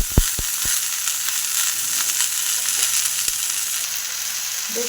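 Methi greens and almonds fry in a pan with a steady, crackling sizzle, broken near the start by a few sharp pops and utensil taps; no one speaks.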